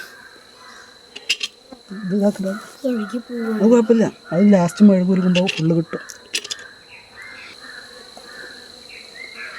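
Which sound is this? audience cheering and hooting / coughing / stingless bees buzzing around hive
stingless bees buzzing around hive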